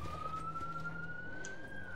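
Police sirens wail in the video game Call of Duty Black Ops 4, a steady rising tone sustained throughout over a low rumbling background, moderately loud and without talk.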